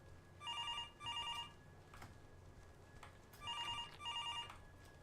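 A telephone rings inside a spooky video game with a bright electronic bell, two double rings spaced a few seconds apart over a low ambient hum, with no voices.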